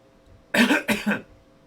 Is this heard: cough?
yes